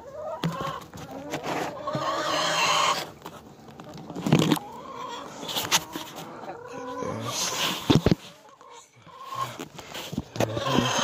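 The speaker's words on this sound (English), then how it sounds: "Chickens are all over me" Chickens crowd in close, giving bursts of clucking and squawking that rise and fall irregularly amid rustling and handling noise.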